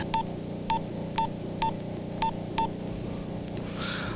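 Telephone keypad dialing tones sound as six evenly spaced beeps over a steady low hum, followed by a faint hiss, no speech.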